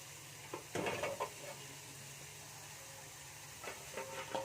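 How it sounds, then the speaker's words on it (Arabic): Broth poured into tomato sauce frying in a pot for molokhia brings a soft sizzle and hiss, with a couple of louder splashy bursts at the start and again near the end over a steady low background. "نبتدي بقى نحط الشوربه"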